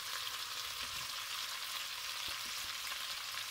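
Onion, garlic and green pepper fry in a pan with a steady, close, dense sizzle throughout, a few faint stirring knocks showing through, and no voices.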